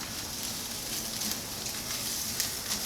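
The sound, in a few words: Riesling wine added to risotto, sizzling and stirred in pan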